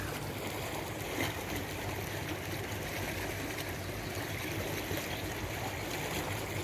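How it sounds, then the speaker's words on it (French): A small, clear stream near Cléguer, Brittany, flowing steadily, a continuous bubbling trickle of water, close and even throughout. "Un petit ruisseau avec l'eau bien claire."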